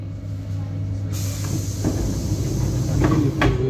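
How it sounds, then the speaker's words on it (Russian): Doors closing on an ED9M electric commuter train: a steady hum of the car gives way to a rush of noise, then a few knocking clunks and a final thud as the doors shut. "Осторожно, двери закрываются."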